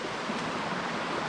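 Marcy Brook in the Adirondacks near Wright Mountain runs in a steady, even rush of flowing water, close and continuous with no voices.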